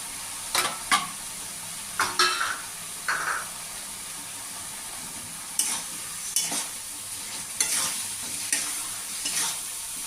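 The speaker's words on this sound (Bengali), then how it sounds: "মশলার সাথে চিকেনটাও ভাজা হয়ে যাবে" Chicken pieces fry with spices in a pan for chicken ghugni, a steady sizzle broken by several sharp stirring scrapes spread across the clip, close and moderately loud with no talking.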